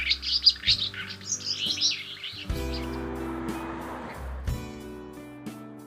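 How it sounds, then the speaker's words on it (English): Birds chirp and twitter in a busy early daylight chorus at Bryce Canyon National Park, loudest at first and then fading under a broad rumble and a low steady hum, with scattered calls continuing. "the early daylight chorus of birds"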